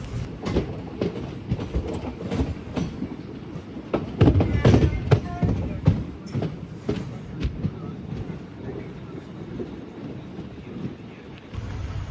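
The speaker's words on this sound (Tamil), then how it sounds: "நம்ம ட்ரெயின் பார்த்தீங்கன்னா இப்போ ஈரோடு ஜங்ஷனுக்குள்ளே அரைவல் ஆகுதுங்க" A train rolls into Erode Junction station with rhythmic clicking and clanking of wheels over rail joints, a steady rumble beneath, gradually easing as it slows.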